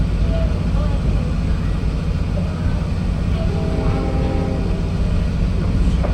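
Adirondack Scenic Railroad train rolling slowly toward Lake Placid, a loud, continuous low rumble and rattle of the cars with faint squeal-like tones rising midway, steady and close throughout.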